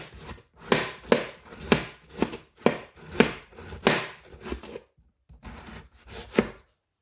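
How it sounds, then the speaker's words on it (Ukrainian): Knife finely shredding winter cabbage on a board, a brisk run of crisp chopping strokes at an uneven rhythm with a short pause, close and fairly clear without talking. "Шаткую дрібненько, так як капуста зимова"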